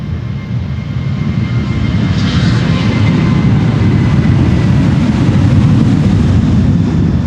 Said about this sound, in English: This is Transavia flight 1445 to Hurghada in Egypt.